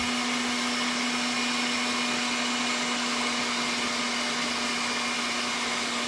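A hand mixer whirs continuously at a constant speed while blending peanut butter candy, a steady, even motor hum close by with no pauses.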